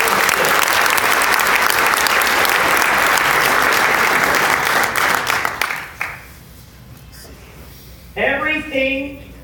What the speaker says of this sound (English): And they deserve a big round of applause as well.